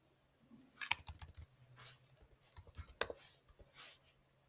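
Typing on a computer keyboard: quick bursts of crisp key clicks in an uneven rhythm, close but quiet, with short pauses between runs of keystrokes.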